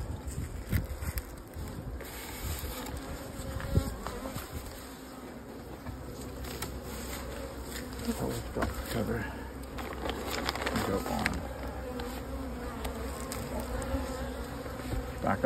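Honey bees drone and buzz around an open hive being prepared for winter, a steady close hum with individual bees passing near, under faint wind and occasional talk.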